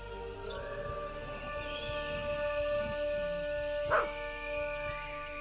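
A dog barks in the horror video game Maid of Sker, set against a dense, droning game soundscape with sustained tones and one sharp louder accent near the end. There is no speech.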